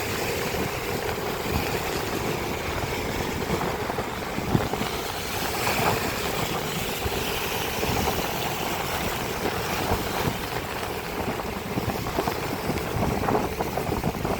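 Motorcycle engine running through heavy traffic on a ride to the airport, a steady droning hum blended with strong wind rush across the whole stretch, no talk.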